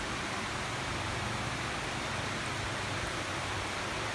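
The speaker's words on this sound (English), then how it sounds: "It's raining." Heavy rain pours down in Dumaguete, a steady, dense hiss that holds evenly throughout with no pauses and no voices.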